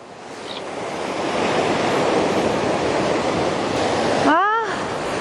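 Ocean waves wash steadily against a rocky shore in a broad, continuous roar, loud and close, with a brief squeaky bird-like chirp near the end.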